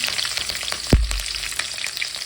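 Five chopped green chillies fry in a pan for tomato rice, a close crackling sizzle with one sharp clunk of a utensil near the start and light scraping, no speech.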